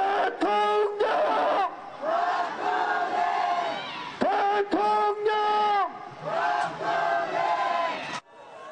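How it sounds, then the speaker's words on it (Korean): Crowd of supporters outside a detention center letting out hoarse, ragged shouts in repeated surging bursts, loud and close, with a few brief pauses between the waves of yelling. "지지자들이 갈라진 목소리로 함성을"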